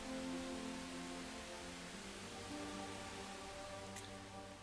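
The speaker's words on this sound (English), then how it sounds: "The rain. It's nice, but I worry that it's too loud." Rain falls as a steady, even hiss of drops on a surface, constant and fairly soft throughout, with no voices.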